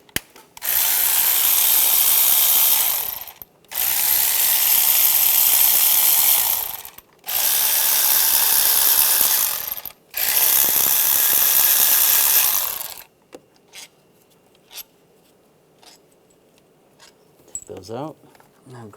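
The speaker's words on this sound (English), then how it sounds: "I'm going to take these bolts out." Four fuel rail bolts are removed with a 12mm socket on a 1996-2002 Toyota 4Runner: four loud whirring bursts of about three seconds each, followed by quieter metallic clinks and handling noises.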